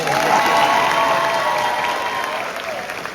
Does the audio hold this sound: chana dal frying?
no